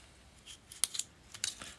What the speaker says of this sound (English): the harness on here does a bit of a snap, crackle, and pop.